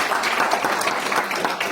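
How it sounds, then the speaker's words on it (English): Round of applause from the audience at an international United Nations conference, a thick, even patter of many hands clapping throughout. "Let's give him one more round of applause."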